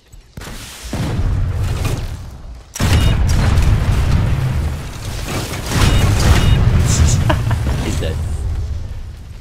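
Sustained bursts of gunfire and explosive booms in a Planetside 2 battle at a deserted mineshaft, loud and dense, pausing briefly near the three-second mark before resuming, with voices talking over the fighting.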